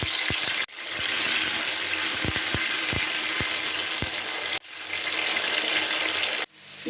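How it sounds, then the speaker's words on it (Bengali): Potatoes fry in mustard oil in a hot pan with a loud, continuous close-up sizzle, broken by a few brief pauses and occasional stirring clicks, with no talking. "প্রথমে আলুটাকে ভেজে নিচ্ছি।"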